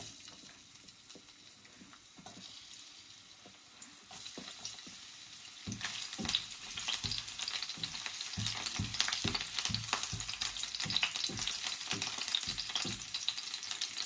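Garlic dropped into hot oil in a pan, a near, steady crackling sizzle that starts soft and swells into dense popping and spattering partway through, with occasional stirring scrapes.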